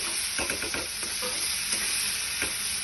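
Tomatoes and cashews sizzle and fry in a pan as a utensil stirs them, steady close crackle with scraping strokes throughout, no talking.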